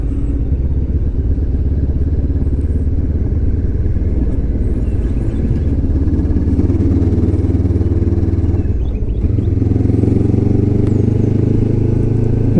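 A 2025 Lifan KPT 400 motorcycle is ridden along a twisty back road off Highway 90, its engine droning steadily under heavy wind rumble, with a brief dip and shift in tone partway through.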